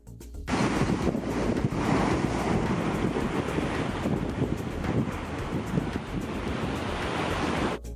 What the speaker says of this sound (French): Observons un instant les vagues qui viennent frapper la roche